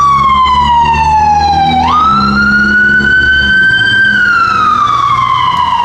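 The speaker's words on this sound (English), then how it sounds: "Gotta let this ambulance go by." A loud ambulance siren wails nearby on a New York street, its pitch sliding down, jumping back up, then falling away again as the vehicle passes, with traffic rumble underneath.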